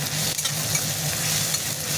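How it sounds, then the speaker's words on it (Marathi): Ginger-garlic paste is stirred into pulao frying in a pan, a close, steady sizzle with light scraping strokes of a spoon over a couple of seconds and no talking. "आता आपण ह्याच्यामध्ये मिक्स करून घेऊया"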